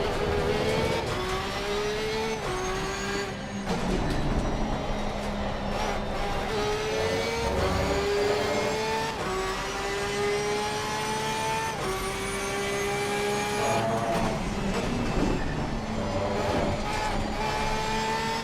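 A Porsche 992 sports car engine runs steadily at a fairly loud, constant level, its tone rising and falling through several rev changes as it keeps pulling, with no talk over it.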